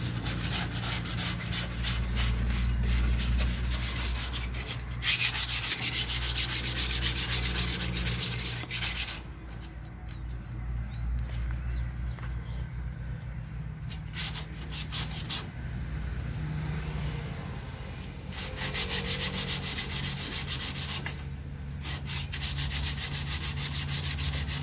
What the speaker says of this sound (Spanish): lije y lije, choya y choya. Lija que lija.